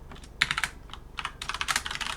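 Rapid typing on a computer keyboard, close and clear, in irregular bursts of clicking keystrokes with a short pause midway and no voices.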